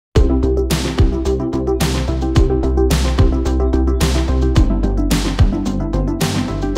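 Hi-hat loop layered with synths and bass in a 1989-style pop track: a dense, loud full mix with steady beats, sustained chords and a deep bassline, with no voices.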